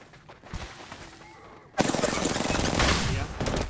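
Sustained automatic gunfire from a shooter in the video game Apex Legends erupts abruptly after quieter ambient game noise, a loud, dense rattling burst that continues to the end.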